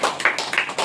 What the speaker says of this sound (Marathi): अर्चनासाठी टाळ्या वाजवा.